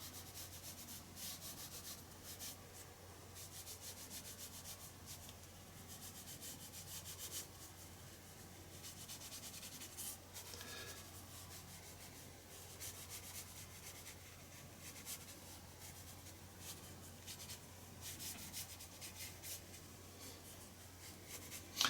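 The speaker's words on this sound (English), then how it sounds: "I'm just going to activate the pencil and create those kind of grungy shadows" Brush rubbing watercolor pencil pigment with water across paper, a soft, steady close-up scrubbing texture that continues throughout with no talking, over a constant low hum.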